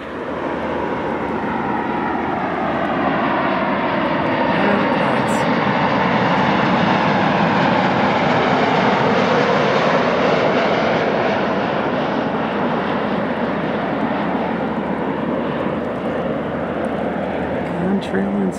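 Airliner on the runway at Boise's Gowen Field airport during a snowstorm in low visibility, its engine roar loud, steady and broadband for the whole stretch, swelling slightly mid-way with no talk over it.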